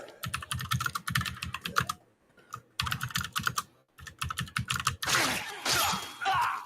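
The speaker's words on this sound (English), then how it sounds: "I do all the typing" Rapid clattering keystrokes on a computer keyboard come in close, dense bursts separated by short pauses, ending in a rougher, noisier stretch.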